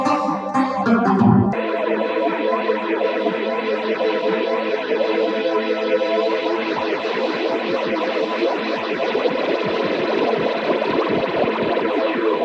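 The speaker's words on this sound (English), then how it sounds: "Trippy phaser." Synth pads run through Apogee's Clearmountain's Phases phaser plugin, a sustained chordal wash with sweeping, swirling phase motion and a thick chorus-like shimmer, loud and steady after a brief opening chord.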